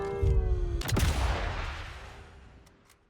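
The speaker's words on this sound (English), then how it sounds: "The sound of your rifle being reloaded after each shot, the shot itself, are one of the most satisfying things implemented into this game" Single loud sniper rifle shot in the Sniper Elite Resistance video game, with a long booming echo that fades over a couple of seconds and is followed by a faint metallic reload click.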